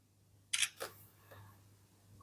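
A Realme 12 phone's 50-megapixel rear camera takes a picture with a single short shutter click, followed by a couple of faint softer ticks, close and alone in a quiet room.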